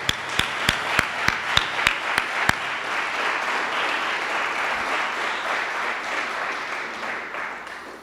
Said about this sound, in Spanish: aplaudan a Cristo fuerte.